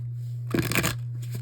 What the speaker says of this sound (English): Let me make sure I get a really good shuffle in here.